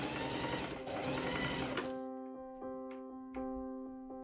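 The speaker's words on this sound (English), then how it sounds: "I pinned the body of the gown up and machine sew the seams, starting with the shoulder." A sewing machine stitching the seams of a late Victorian crimson teagown, running in a steady whirring burst for about two seconds, then slowing into a few separate clicking stitches.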